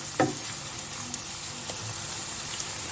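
Tomato paste with red pepper flakes and black pepper being stirred in a pan for a baked eggplant and minced meat dish, giving a constant gentle sizzle with a few light utensil taps and scrapes, no talking.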